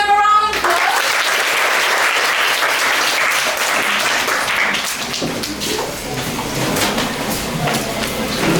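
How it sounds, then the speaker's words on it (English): Classmates at a school presentation applaud a presenting student group, with loud, close, dense clapping that continues steadily for several seconds. "Let's give them a round of applause."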